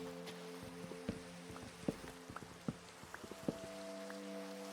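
Steady Minecraft rain patters in the background, with scattered louder drops tapping at irregular intervals over a constant low hum.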